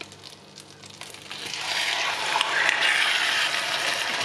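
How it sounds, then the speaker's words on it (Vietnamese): Chicken thighs sizzling in butter in a hot pan, the crackling hiss growing louder and denser as it goes. "Và mình sẽ chiên gà trong bơ."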